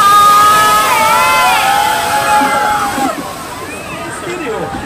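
A large crowd cheers and shouts at the opening day of the Studio City water park in Macau, loud and close, with excited voices layered over splashing water and gradually easing off.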